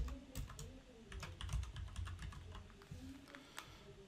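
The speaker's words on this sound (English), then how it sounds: "for the footer, go ahead and type in Chapter 8 Grader Project" Footer text is typed on a computer keyboard in quick, irregular bursts of soft clicks, close and quiet, with no one speaking.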